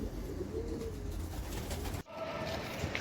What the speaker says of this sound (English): A tutaj widzicie dzikie gołębie, które też pojadą do Australii i do Nowy Zealand